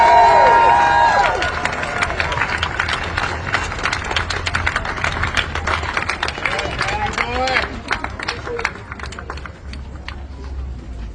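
A crowd at an outdoor disability supports rally claps and cheers loudly for an arriving speaker, a dense burst of applause with whoops that gradually fades while someone talks over it.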